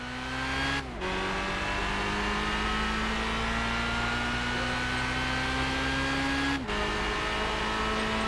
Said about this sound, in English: you can definitely hear that the car is shifting a lot better